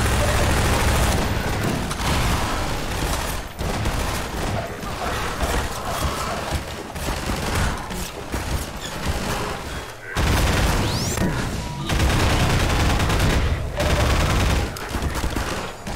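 Sustained loud gunfire and explosions during a Half-Life 2 firefight, dense continuous shooting that barely lets up, briefly dipping twice, with a voice occasionally audible under the noise.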